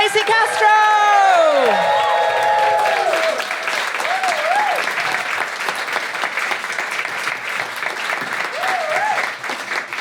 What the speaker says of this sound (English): Big round of applause for Leyla Williams and Steasy